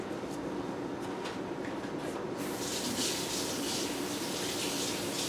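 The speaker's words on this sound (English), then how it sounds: "You hear the water running?" Steady broadband rushing of running water, loud and continuous, brightening and intensifying partway through as the flow strengthens.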